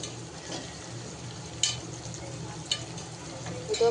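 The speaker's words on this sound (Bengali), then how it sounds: "পেঁয়াজ বেরেস্তার জন্য একটু পেঁয়াজ বসালাম ভাজা" Onion frying in a pan for beresta in a home kitchen, a soft continuous sizzle with occasional stirring scrapes and a few sharper clicks, fairly quiet and close.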